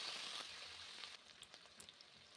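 Green chillies and onions fry in hot oil in a kadai for an egg tomato curry, giving a steady, close crackling sizzle that is loud at first, then drops to a softer spitting hiss with scattered pops.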